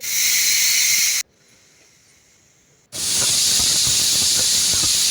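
Loud, harsh steam hissing from a pressure cooker whistle, cut off by a short quieter pause, then bursting out again just as strongly.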